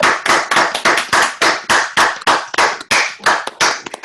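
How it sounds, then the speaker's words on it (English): Clapping from a few participants at a virtual networking event, a steady run of sharp, distinct hand claps over about four seconds, close and fairly loud with no talk. "can we give a warm up round of applause for the other guys?"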